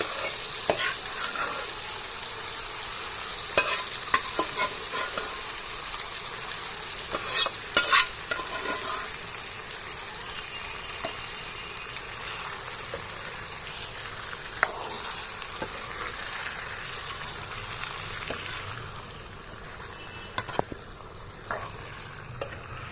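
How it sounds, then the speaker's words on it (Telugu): Prawn biryani masala fries in a pot as a spoon mixes it, a continuous loud sizzle with irregular scraping strokes and occasional metallic taps throughout, free of speech. "ఇవన్నీ యాడ్ చేసుకొని బాగా మిక్స్ చేసుకోవాలి."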